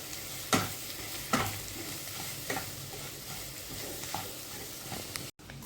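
Mashed potato is mixed with masala in a pan, with a few soft spoon scrapes spaced irregularly over a low, quiet sizzle and no talking.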